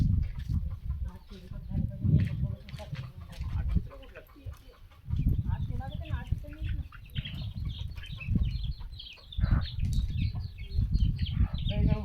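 Several hens cluck close by in a busy, continuous chorus while eating rice, with a few wing flaps and background voices now and then.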